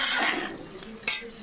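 A lid is set on a pot of onions frying in oil for chicken dum biryani, giving a couple of brief metallic clinks and a sharper knock over a steady background sizzle.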